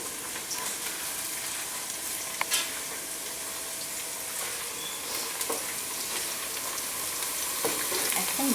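Onion frying in oil in a pan for beef biryani, a steady soft sizzle with crackling and occasional clinks of stirring throughout.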